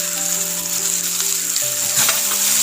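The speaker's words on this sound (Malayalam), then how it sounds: "ഇതെല്ലാം ഇട്ടിട്ട് നന്നായിട്ടൊന്ന് വഴറ്റാം" Pepper, turmeric, garam masala and meat masala powders sautéing in a hot pan, a loud close sizzle with a steady hum underneath and a brief stir near the end.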